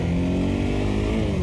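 Motorcycle engine with a steady, close throttle drone held in first gear while a rider rolls forward, the pitch steady and continuous throughout the short stretch before shifting.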